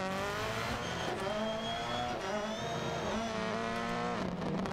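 A rally car engine is heard from the cockpit in DiRT Rally 2.0, with a loud, continuous harmonic engine note rising and falling through revs and gear changes, plus a brief tire squeal near the end.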